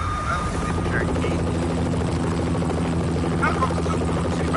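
A helicopter in the Max Payne video game keeps up a steady, droning rotor thump with a low engine hum, continuous and fairly loud, while a voice talks briefly over it.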